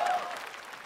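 Brief, fading applause from a concert audience for a singer on a televised singing contest stage, moderately distant and thinning out after a faint tail of music.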